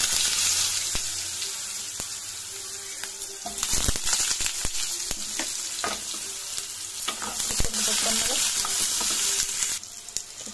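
Potatoes fry in hot oil in a kadai, a dense steady sizzle broken by clattering scrapes and stirring knocks, close and fairly loud, with no talk.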